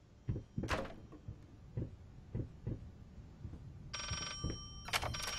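Telephone ringing inside the Layers of Fear horror game, a bright electronic trill that starts partway through and returns at the end, over earlier footsteps and knocks in a quiet room.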